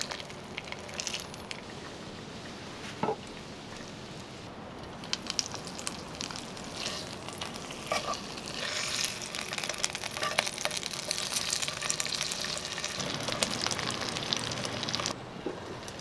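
Pork belly fries in a pan with a steady crackling sizzle and scattered pops, fairly quiet and close, continuing without talk throughout.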